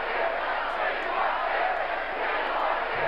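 Baseball stadium crowd noise from a video game: a dense, steady roar of many voices cheering at constant loudness for the whole stretch, with no clear individual words.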